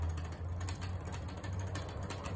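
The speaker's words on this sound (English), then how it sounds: "It scrapes in the shaft" A Schindler MT 300A elevator in a parking garage scrapes and squeaks in its shaft, giving a steady mechanical grinding with a low hum underneath, fairly faint and continuous, no voices.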